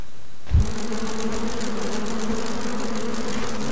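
Bees swarming in the survival horror game Resident Evil: Outbreak File #2, a sudden onset followed by a steady, close, droning buzz that holds without pause.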